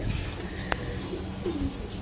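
A pet pigeon recovering from a cold with a runny nose gives a faint, low coo near the end, after a single sharp click; no one speaks.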